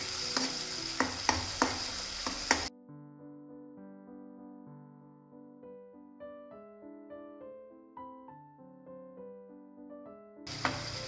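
Taro root roasting in a pan while being stirred, for dum arbi: a brief burst of crackling sizzle with rapid spatula clicks, then a long stretch of soft melodic music, and a short return of sizzling at the end.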